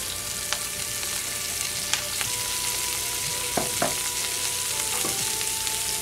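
Onions and peppers fry loudly in a hot skillet, a continuous close sizzle broken by several sharp utensil clacks and scrapes against the pan, with no talking.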